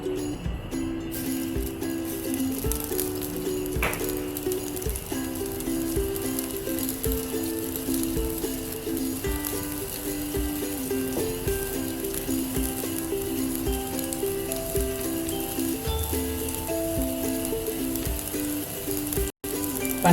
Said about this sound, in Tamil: இப்போ நம்ம பணியாரம் ஊற்றிக்கலாம்.